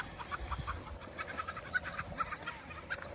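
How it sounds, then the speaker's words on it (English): Chickens cluck faintly on a farm where goats are kept, with short repeated calls in an uneven rhythm over low background rumble. "Chickens."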